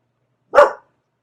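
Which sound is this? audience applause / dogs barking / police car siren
dogs barking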